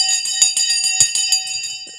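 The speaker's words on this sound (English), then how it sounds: "The bell has just gone." A stock exchange bell rings in a rapid, bright, continuous clatter of repeated strikes, loud and steady throughout with no talking.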